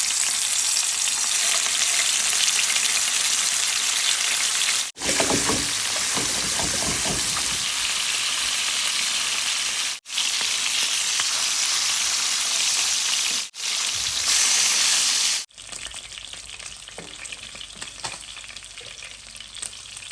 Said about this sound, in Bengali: তেলটা গরম হয়ে গেছে এখানে মাছগুলো দিয়ে দেবো